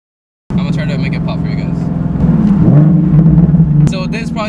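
A loud Nissan 370Z engine rumbles and revs steadily, with a brief sharp exhaust crackle near the end, heard up close.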